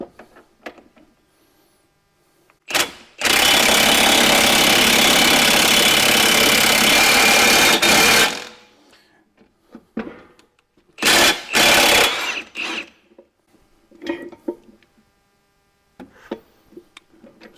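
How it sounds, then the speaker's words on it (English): A ball joint press forces a ball joint into the steering knuckle of a Ford F250, most likely driven by an impact gun: a loud sustained rattling burst of about five seconds, then shorter bursts and clanks. "it wants to push down that ball joint, and then you have your receiver in the bottom so that the ball joint can protrude out of the knuckle"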